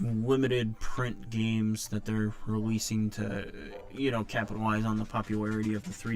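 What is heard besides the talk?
No everyday noise stands out behind the speech.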